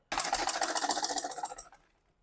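Sewing machine running steadily for about a second and a half, stitching down the side seam of a skirt, with a rapid rhythmic whir of the needle close by, then stopping.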